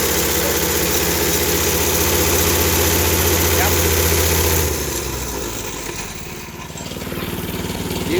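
A Princess Auto reversible plate compactor's small engine runs close by with a steady, loud chugging drone and heavy vibration, then eases to a lower, rougher idle about halfway through.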